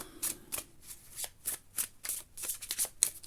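A deck of cards, drawn in a card-reading session, is shuffled in quick repeated riffles, about ten crisp bursts close by, with no talking.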